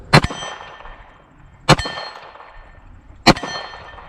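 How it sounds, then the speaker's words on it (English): Three sharp metallic clangs ring out at even intervals as bullets from a .45 ACP pistol strike a steel MGM gong target, each impact leaving a bright, shimmering tail that decays before the next. "Let's go for the MGM gong here."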